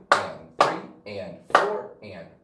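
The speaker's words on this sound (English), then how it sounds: "here's how you count and clap this exercise" Hands clapping a dotted quarter note rhythm in a counting exercise, five close, crisp claps in an uneven long-short pattern, with a voice counting between them.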